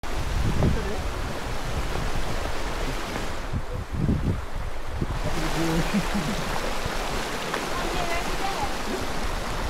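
Water rushing steadily at Inambakan Falls, a broad continuous hiss close by that fills the whole clip, with brief low thumps and faint voices underneath.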